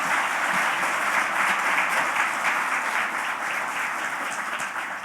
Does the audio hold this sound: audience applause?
yes